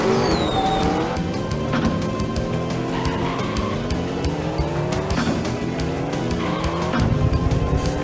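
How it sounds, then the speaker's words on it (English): Toy race car in the 1998 Hot Wheels Stunt Track Driver video game, engine whining and rising in repeated gear sweeps, with tire squeals and skids, loud and continuous with no talk. "this car has the same sound as Way Too Fast, and I think that's kind of a glitch"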